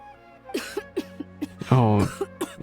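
A video game character gives a voiced cough, a string of short hacking bursts building to a longer strained cough, close and clear.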